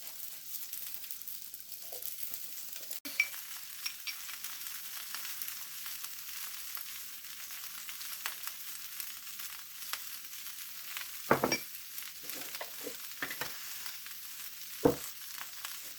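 Cabbage simmering in a pot alongside bacon, potato and kielbasa, giving a faint, steady low sizzle and bubbling hiss with a few sharp clinks of utensils, no voices.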